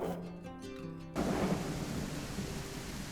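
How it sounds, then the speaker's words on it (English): Steady rain hisses loudly after a quiet musical opening, with low rumbling thunder rolling underneath the downpour, in the video game The Isle Evrima. "It had started raining again"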